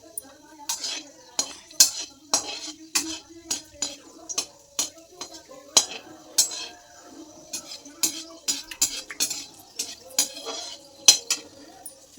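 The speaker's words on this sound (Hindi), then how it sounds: "अब इन सबको मैं मिक्स कर लूँगी" A spoon mixes turmeric and ground spices in a pan for a paneer curry, producing a long run of sharp metal clinks and scrapes in an irregular rhythm, close by against an otherwise quiet background.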